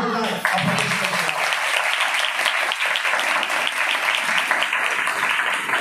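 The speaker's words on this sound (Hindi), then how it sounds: "जोरदार ताली बजाएं" A church congregation claps loudly and steadily at a Christmas service, a dense wash of applause starting abruptly and continuing without pause.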